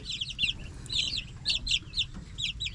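Small birds peep and cheep in quick repeated bursts, close by, with a faint low background hum beneath; sounds like young chicks calling from a chicken's nest on a farm.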